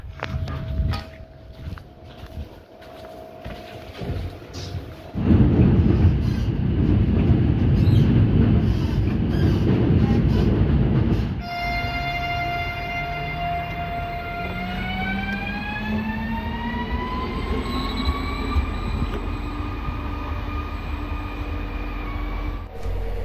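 Passenger train on the Riga–Skulte line in Latvia, heard from on board as a steady rumbling ride that grows louder midway, then a rising whine as it pulls away, with no talk.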